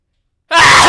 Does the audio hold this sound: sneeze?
yes